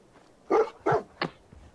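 A dog in the video game Fallout 4 gives three quick barks, two fuller ones and a shorter third, close and clear with nothing else around them.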